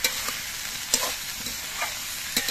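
Boiled cauliflower stems stirred with salt in a pan, soft sizzling under a few distinct scraping strokes of a spatula, close up with no voices.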